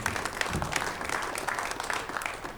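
Crowd applause at a WPBA Masters pool match as a player is introduced, dense sustained clapping from many hands, with a voice faintly underneath.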